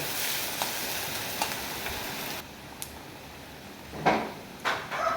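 Onions frying in oil in a pan while cooking a curry of pointed gourd, potato and fish roe: a steady, moderately loud sizzle that drops a little partway through, broken by a few brief clatters near the end.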